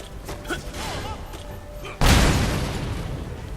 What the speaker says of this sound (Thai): นั่นระเบิดนะ